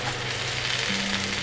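Ostrich fillet steak sizzles in butter in a hot pan, giving a dense, steady frying hiss that stays loud and close throughout, with no voices.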